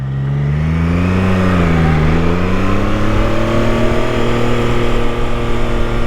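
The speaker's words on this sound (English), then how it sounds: "I'm gonna go out on a limb and say it's weak. It's a weak exhaust." Triumph Tiger Sport 660 motorcycle exhaust from its three-cylinder engine, a loud, steady engine drone that rises in pitch as the bike accelerates and then holds at speed, with wind noise and no voices.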